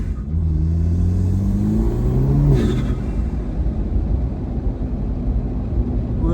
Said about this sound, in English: let's take traction control completely off. All right, from a dead stop,